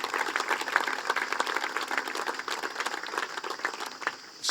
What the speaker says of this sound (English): You do deserve a round of applause for everything you've done for the country.